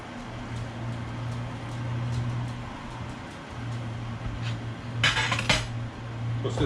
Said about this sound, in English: Dump her in there with the macaroni and stir it all up again.